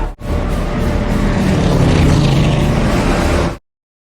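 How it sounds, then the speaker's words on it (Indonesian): Japanese World War II fighter planes massing for an attack, their piston engines droning loud and steady for a few seconds before cutting off abruptly into silence. "Ratusan pesawat tempur Jepang terlihat berbaris bersiap menyerang dan meratakan semua"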